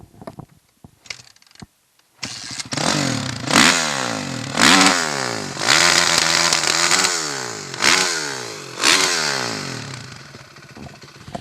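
Four-stroke dirt bike engine at a motorsports park, close and loud, revving up and down in repeated bursts with clear rising and falling pitch sweeps after a brief quiet start.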